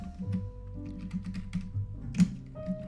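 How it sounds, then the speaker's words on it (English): Typing on a computer keyboard, a quick run of light plastic key clicks at close range over a faint electrical hum, ending in one louder tap. "let's just type in phases of the moon."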